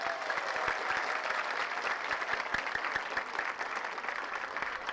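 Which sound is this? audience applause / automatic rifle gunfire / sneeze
audience applause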